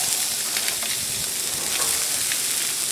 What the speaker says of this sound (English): Get some onions thrown down.